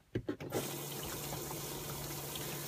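Electric toilet flush pump in a caravan running noisily without moving water: a few irregular clunks at the start, then a steady loud whirring hum with a constant low tone, alone.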